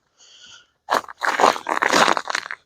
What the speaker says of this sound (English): You hear the ice crunching under my feet.